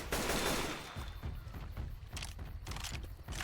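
Rapid AK rifle fire in the zombie shooter Left 4 Dead 2, a dense loud burst of automatic shots rattling through the whole stretch amid game noise.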